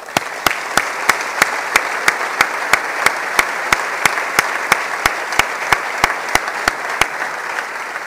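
An audience applauds at a 2017 city day ceremony session, a steady wash of clapping held for several seconds with a sharp regular tapping pulse running through it, fairly loud and close.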